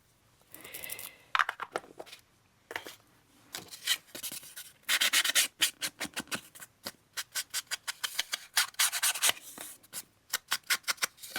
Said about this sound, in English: so I'm going to ink around these edges